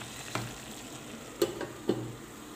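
Chicken fries quietly with turmeric and spices in a tagine with olives, a faint steady sizzle broken by a few sharp knocks and scrapes as the pieces are stirred.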